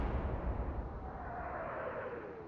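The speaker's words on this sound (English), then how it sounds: "Another big explosion," Explosion in the naval warfare game Atlantic Fleet, a broad, rumbling blast that fills the clip and slowly fades, with a faint descending whistle partway through and no voices.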